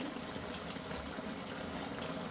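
Water being poured off a pot of cooked chicken feet, a steady gushing, splashing flow throughout at moderate, even loudness.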